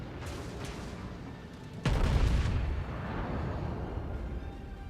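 In the World of Warships naval game, a North Carolina battleship takes a heavy shell hit from a New Mexico, a sudden loud booming impact over low rumbling battle ambience, followed by a fading roar.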